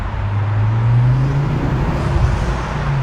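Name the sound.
Ford Focus ST driving at about 20 mph, window down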